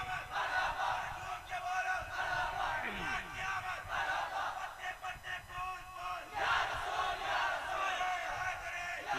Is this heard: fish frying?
no